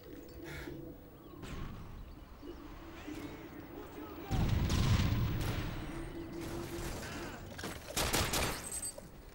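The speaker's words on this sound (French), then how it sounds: "il balance un petit C4" C4 explosive thrown in a Modern Warfare 3 multiplayer match, a heavy low blast bursting out midway over ongoing game noise, followed by a sharper second crack near the end.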